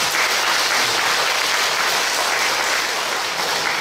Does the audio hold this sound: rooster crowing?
no